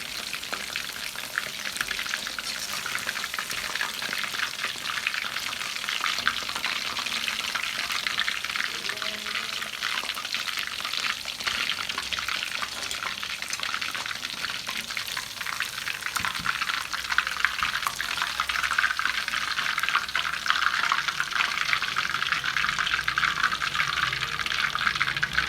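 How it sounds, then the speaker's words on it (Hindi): Chicken pieces for chicken dabu fry in a pan with a steady, dense sizzle that runs the whole time, broken by occasional stirring scrapes and no voices. "अब बाकी पीसेस मैं इसके और फ्राई कर लेता हूँ"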